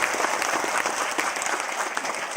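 Loud, dense applause from an audience at an AWPL motivational speech in Ranchi, many hands clapping steadily and evenly throughout, close and filling the room, with no speech audible.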